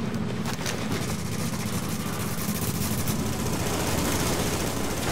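Rapid gunfire rattles in the video game The Division during a cooperative PvE fight, a dense, continuous stream of shots with engine-like rumble beneath, loud and without talk.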